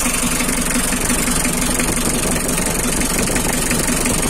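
A 2011 Mitsubishi L300 pickup engine idles loudly and steadily up close, a continuous even rumble with no talking.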